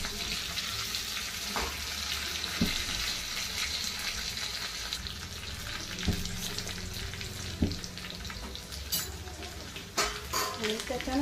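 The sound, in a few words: tempering of cumin, green chilli and coriander sizzling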